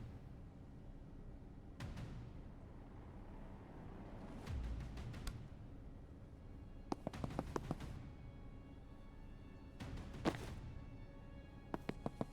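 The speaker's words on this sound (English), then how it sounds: "throw the Gale Grenade there" Gale Grenades go off in the video game Tactical Breach Wizards as a series of sharp, cracking bursts spread across the stretch, some single and some in quick clusters, each with a short ringing tail over quiet game ambience.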